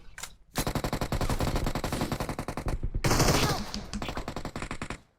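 Rapid automatic gunfire from PUBG Mobile gameplay rattles in long, loud, continuous bursts with a short pause in between, close and dominant with no talk over it.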